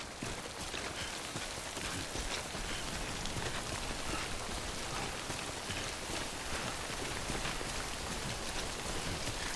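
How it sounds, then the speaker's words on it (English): Steady rain called timefall falls in the video game Death Stranding, a dense hiss of drops striking surfaces that holds at an even level throughout, with no voices. "Don't stay out in the rain any longer than you have to."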